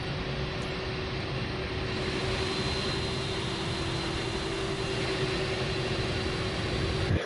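An airliner on its takeoff roll from runway 27 in Microsoft Flight Simulator 2024 makes a steady, loud jet engine roar with a low droning hum that holds evenly from start to finish, with no voices.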